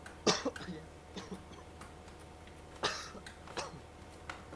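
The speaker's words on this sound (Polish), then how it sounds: "Kaszel palacza." A few sharp, raspy smoker's coughs close by, spaced out over a few seconds with quiet gaps between them, no talking.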